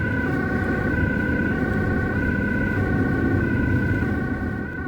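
A loud Dutch ambulance siren wails continuously with a steady, sustained tone, close and dominant, over a low rumble of rush-hour highway traffic.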